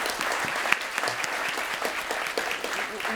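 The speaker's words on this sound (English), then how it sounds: "Big round of applause again." A live festival crowd applauds, steady dense clapping throughout at moderate volume.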